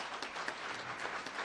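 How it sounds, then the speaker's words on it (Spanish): An audience at a medical professionalism session gives applause to the panelists, a faint, steady patter of clapping heard from some distance with a few sharper individual claps standing out. "el aplauso para los panelistas"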